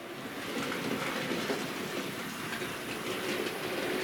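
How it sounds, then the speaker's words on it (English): A model railway locomotive running steadily over a points crossover on established track, a continuous rolling rumble with faint rhythmic clicking, close and unbroken, no voices. "we know the loco can go round it"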